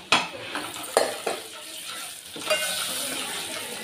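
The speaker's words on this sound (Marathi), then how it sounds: "चांगला लालसर झाला लसूण, त्यामध्ये लाल तिखट टाकायचं" Garlic fries in a pan, then red chili powder is added and stirred, bringing a soft sizzle under several sharp metallic clinks and scrapes of a spoon against the pan.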